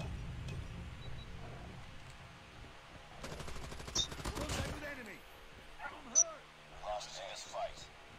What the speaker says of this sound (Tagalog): may bumabaril sa akin